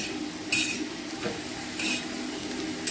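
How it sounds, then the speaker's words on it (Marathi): Green chillies roast in a hot pan with a steady low sizzle, broken by bright scraping stirs at regular intervals of roughly a second and a half. "तर मी आता ह्या मिरच्या भाजून घेणार"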